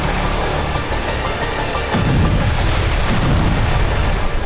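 Heavy mortar and artillery fire pounding villages around Zaporizhzhia, a dense continuous rumble with a deeper boom landing near the two-second mark and further thuds after, loud and with no voices.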